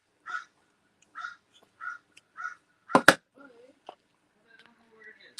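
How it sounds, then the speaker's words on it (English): Several separate bird calls at a distance in a quiet outdoor setting in Canada, evenly spaced, followed by a sharp loud knock and faint rustling. "You can hear the birds out there."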